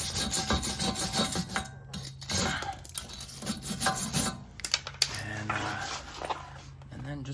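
A brush is scrubbed against the rusty wheel hub of a 2021 Kia Seltos S AWD during a brake job, making rapid, uneven rasping and scraping strokes up close. Someone speaks briefly partway through.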